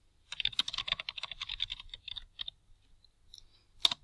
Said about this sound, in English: So I'm typing this as I go